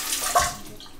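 Cold water splashes briefly from a tap while an alum block is rinsed during a wet shave, a short close gush with no talking.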